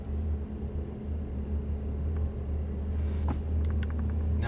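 An Adomani hybrid Ram 1500 pickup truck driving down the road, a steady low engine and road rumble heard from inside the cab, with a few faint clicks and knocks toward the end.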